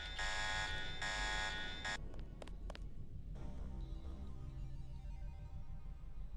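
A buzzing electronic alarm blares in Deus Ex, loud and steady in long pulses before cutting out into a lower, droning ambient hum with a few sharp clicks.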